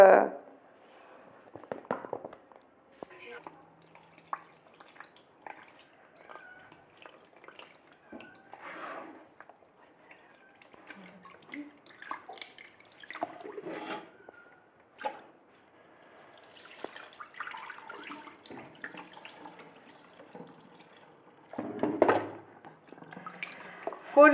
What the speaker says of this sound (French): On va le rincer à l'eau froide, l'égoutter puis le laisser gonfler